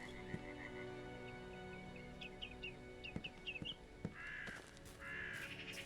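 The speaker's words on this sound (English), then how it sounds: "Birds will not shut the fuck up, apparently." Crows caw repeatedly in The Beast Inside horror video game, a run of short harsh calls mid-distance over a steady ambient outdoor bed, with a few sharper bird chirps and thuds between them.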